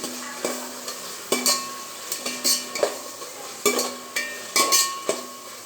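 A spoon repeatedly stirs and scrapes sliced tomato and onions frying in a pan, with sharp clinks against the metal over a steady low sizzle, close and loud in irregular bursts.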